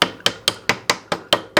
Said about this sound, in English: You use the back side of the hammer and just hit it.